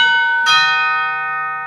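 A cheap wireless doorbell chime rings once with a single bright struck tone that rings on and slowly decays, loud and close, with no talk.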